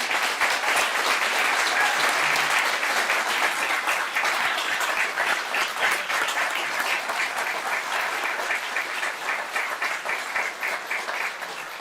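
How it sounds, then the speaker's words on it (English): A large audience at a public conversation on sea level rise gives a long, sustained round of applause, dense and even, slowly tapering near the end with no talk. "And could we have a huge round of applause for these people?"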